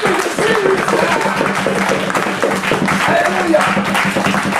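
A church congregation applauding during a sermon: continuous, fairly loud clapping from many hands with a faint voice underneath, steady for the whole stretch.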